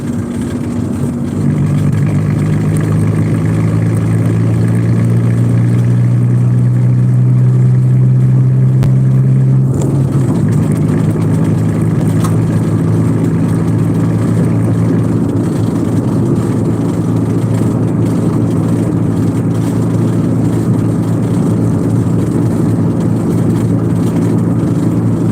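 A car driving steadily at road speed, with a loud continuous engine and road drone, a low tone shifting pitch about halfway through, and no talking.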